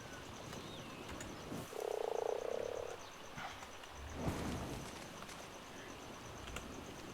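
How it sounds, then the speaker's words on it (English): Beelzebufo frogs croaking in ARK Fjordur: one loud, deep, buzzing croak lasting about a second, then a shorter low croak a moment later, set over a steady ambient game soundscape with faint bird-like calls. "We got two frogs here"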